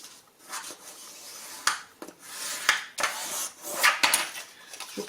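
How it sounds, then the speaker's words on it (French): Paper being creased along a fold for a beginner's storage box for 15 x 15 blocks: a run of dry scraping rubs and short sharp strokes, close and fairly quiet, with no talking. "Je marque bien le pli."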